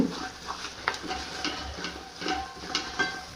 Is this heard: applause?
no